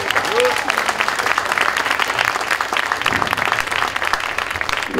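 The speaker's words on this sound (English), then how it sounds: "that's a round of applause for the band" A concert crowd in New York applauds the band, steady dense clapping filling the room at close range with a voice talking over the top throughout.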